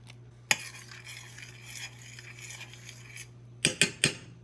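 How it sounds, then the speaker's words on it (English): Parmesan cheese being stirred into bubbling Alfredo sauce in a pan: a steady low simmer with soft scraping, then a quick cluster of sharp utensil clinks against the pan near the end. "Once it starts bubbling like this, we want to slowly incorporate our Parmesan cheese."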